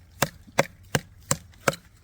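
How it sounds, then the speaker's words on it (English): Off-Grid Alpha-Dog knife chopping into wood, five sharp evenly spaced strikes about every third of a second, close and crisp over faint background hiss. "This is not a chopping knife, but I don't know if you notice. It's freaking chopping."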